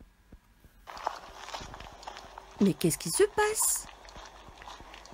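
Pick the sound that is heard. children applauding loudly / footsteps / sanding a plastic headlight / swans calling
footsteps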